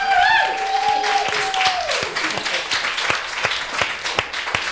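A live game show audience applauds after a host's spoken bit, the clapping steady and fairly close for several seconds while talking and a brief tonal flourish sound over it near the start.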